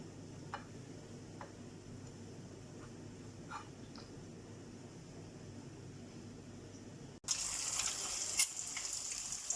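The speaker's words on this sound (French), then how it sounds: "on la plonge dans l'huile, la brique, telle quelle, et on arrose avec une cuillère" Tuna brick pastry plunged into hot oil and basted with a spoon: a low, steady frying hiss with faint ticks, growing abruptly louder and brighter toward the end as the oil crackles harder.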